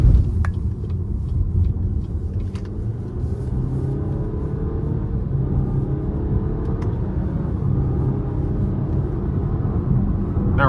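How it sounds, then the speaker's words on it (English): 2023 Cadillac XT4 Sport driven in sport mode with paddle shifters, heard from the cabin as a constant low engine and road rumble that holds steady throughout. "So I'm gonna put it in a sport mode and try these paddle shifters out."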